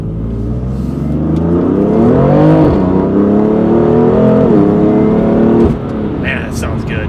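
A BMW F8X with its exhaust valves open revs up and down, a loud, close, throaty rise and fall lasting several seconds before settling back.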